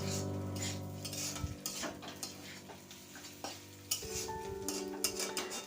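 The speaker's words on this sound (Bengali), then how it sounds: "এবার ডিম, আলু, পেঁয়াজ সব একসঙ্গে ভালোভাবে নেড়ে নেব।" Egg, potato and onion frying together in a pan, stirred with a metal spoon, giving repeated clinks and scrapes over a light continuous sizzle.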